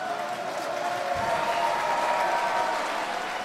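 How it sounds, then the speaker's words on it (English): A crowd at a college football game claps and applauds continuously, a dense wash of many hands at a steady level throughout. "We gotta clap it up."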